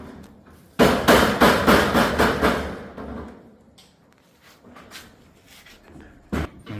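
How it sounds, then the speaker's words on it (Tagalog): Hammering while a shed is built: a rapid series of about seven loud ringing blows, followed by quieter scattered knocks and a final sharp strike, close by in an outdoor setting. "Hammer it down."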